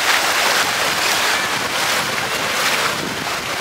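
Mediterranean sea at a warm, very shallow beach, heavy wind buffeting the microphone over a constant roar of surf and waves, loud and unbroken throughout.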